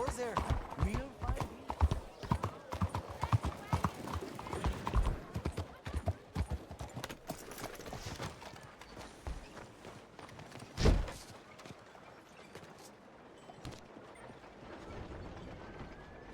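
A horse's hooves clop along in the Red Dead Redemption 2 Western game, a rapid patter at first that softens, mixed with other game sounds and a spoken voice.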